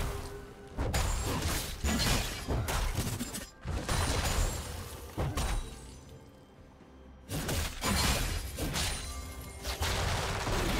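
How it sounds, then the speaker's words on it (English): Structure crashing apart in League of Legends, a run of loud shattering and smashing bursts with metallic clatter, separated by brief quieter gaps, close and without talk. "Red team's turret has been destroyed."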